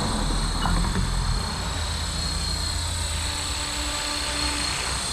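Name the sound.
Blade Fusion 360 RC helicopter flying on test flight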